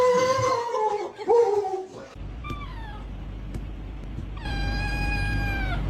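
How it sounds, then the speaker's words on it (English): A pet cat meows several times, loud and close, with drawn-out rising and falling calls, then a long steady meow near the end, over a low background hum. "So this is my cat."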